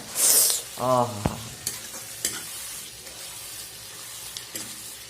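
Fish frying in a pan makes a faint, steady sizzle, with a brief squeaky tone and a few sharp scraping knocks of stirring, heard up close.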